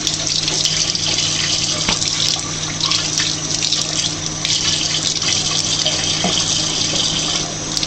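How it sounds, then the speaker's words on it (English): Cold tap water runs steadily from a kitchen faucet onto flower blossoms being rinsed for cooking, a continuous close splashing hiss that holds for the whole stretch with no talk. "Just washing it underneath the faucet there."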